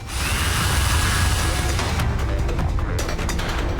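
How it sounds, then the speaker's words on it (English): A drill spins in the video game Goddess of Victory: Nikke with a loud, continuous grinding roar and whir. Rattling mechanical texture runs through it for about four seconds. "The drill continues to spin"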